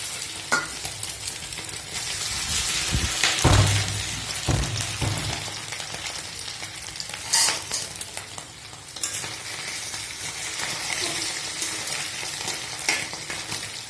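Meat sizzles loudly in hot oil while frying for a Chinese vegetable dish, a continuous crackling fry broken by a few sharp scrapes and clatters of stirring.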